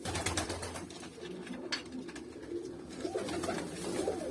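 Manax pigeons coo in a loft, a soft continuous murmur of several birds with low throaty calls and occasional wing rustles, close by and with no talking.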